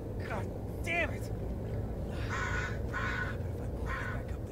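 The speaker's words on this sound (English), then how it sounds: "I don't like the sound of crows here." Crows caw in the video game Blair Witch, with a few harsh calls near the start and then three longer, louder caws spaced evenly over a steady low rumble.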